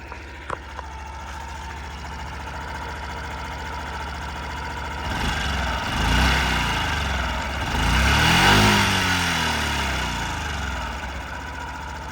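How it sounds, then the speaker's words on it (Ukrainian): A 2016 Honda Super Cub 49cc fuel-injected scooter engine idles quietly and steadily, then is blipped twice into short rising revs that swell and settle back toward idle, fairly close, with no talk. "Чистенько, тихенько, без зауважень працює двигун."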